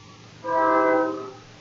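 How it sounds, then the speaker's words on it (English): A train horn blasts once, a loud sustained chord of about a second that swells and then fades, with no talk over it. "It's a train."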